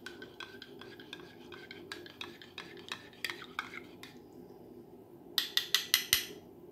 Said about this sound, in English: we have our coffee. Give that a few stirs.